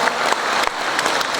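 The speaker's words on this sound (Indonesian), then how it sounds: "Tepuk tangan yang mulia." An audience at an education seminar on anti-bullying gives loud, sustained applause, with dense clapping and a few sharper individual claps standing out, no talking over it.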